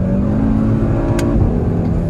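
An Audi RS3 cruises fast on a motorway, its engine and road roar forming a loud, steady drone from the cabin with no pauses.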